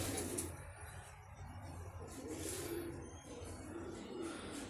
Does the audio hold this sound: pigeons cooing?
yes